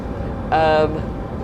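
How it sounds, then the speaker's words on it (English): A train in the video game Train Sim World 5 on the Cologne–Aachen route braking automatically, a brief tonal squeal or hiss lasting about a third of a second over a low background rumble. "look, there we go, train's braking itself."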